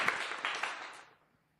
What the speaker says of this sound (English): let me go ahead and clap it up real quick for the people